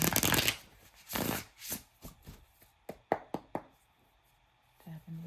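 Close, soft riffling of a card deck, followed by several light taps and knocks of cards being squared on a surface, fairly quiet.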